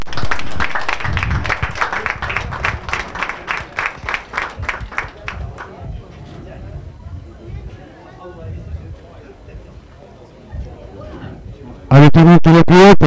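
At an equestrian podium ceremony, an audience claps steadily for several seconds before the applause fades into crowd murmur, followed by a sudden loud burst of music or announcement near the end.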